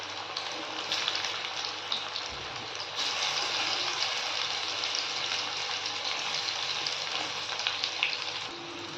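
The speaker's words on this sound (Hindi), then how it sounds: "अब इसमें एक एक करके फ्राई करने के लिए डालती हूँ" Arbi (taro) leaves fry in hot oil in a kadai, a dense, steady sizzle close by that swells slightly midway and continues without pause, with no talking.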